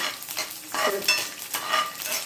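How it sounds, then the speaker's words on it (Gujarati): Ten to fifteen garlic cloves hit hot oil and sizzle steadily, with crackling bursts and stirring scrapes throughout a short stretch of frying; no voices. "હવે આપણું તેલ ગરમ થઈ ગયું છે, એમાં 10-15 લસણની કલીઓ આપણે નાખી દઈએ"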